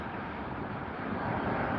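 A Scandinavian Airlines Airbus A350-900 jet arrives at LAX after a long flight from Copenhagen, its steady broadband engine roar continuous and swelling slightly toward the end, with no voices.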